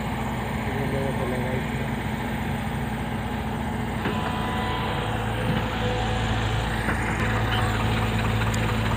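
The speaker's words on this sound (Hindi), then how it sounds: "अभी तक तो भाई फंस रहे थे ट्रैक्टर, अब देखते हैं ये कैसा चलेगा।" A Swraj 724 XM tractor engine runs under load while pulling a fully loaded trolley, a steady loud droning rumble with a low harmonic hum that continues throughout, with people talking over it.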